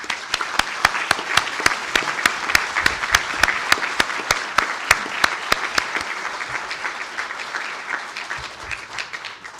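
Sustained applause from a seated crowd for engineering graduates at a university conferring ceremony, steady clapping with a few sharp individual claps standing out, slowly thinning toward the end.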